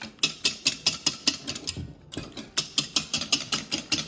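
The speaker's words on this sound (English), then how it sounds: "So this little mixture gets whisked about" Crab cake mixture is whisked into mayonnaise in a bowl, making a quick, regular series of sharp clicking taps as the whisk strikes the bowl, briefly uneven midway, heard close with no talking.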